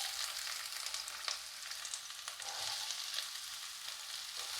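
Chopped onions fry in hot oil in a pan, giving a steady, close, even sizzle with faint crackles and occasional scraping stirs, no voices.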